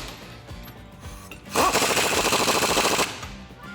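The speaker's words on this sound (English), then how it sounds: "Now we're just going to take a 22mm socket and tighten those nuts down." An impact wrench rattles in a rapid, loud burst of about a second and a half, tightening the wheel nuts on a Ford F150 with a 22mm socket, with quieter shop noise before and after.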